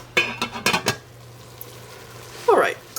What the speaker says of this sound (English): we're going to put the lid on and let them sweat down till they're soft